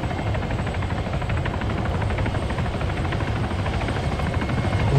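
Helicopter in the military shooter game Arma, a steady, loud rotor chop with constant engine drone that holds close and unbroken throughout, with no voices.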